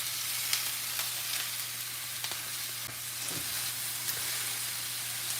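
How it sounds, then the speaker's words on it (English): Peppers and onions fry in a pan at home, a steady close sizzle with occasional sharp pops and crackles over a low constant hum, no talking. "if the peppers and onions are too loud"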